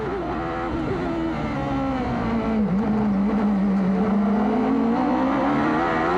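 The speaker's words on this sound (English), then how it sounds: "You're on board the nose of Bobby Rahal's car." Onboard engine note from the nose of a 1993 CART Indy car racing at Detroit, a loud continuous drone that sags and climbs with throttle and gear changes throughout, with no talk over it.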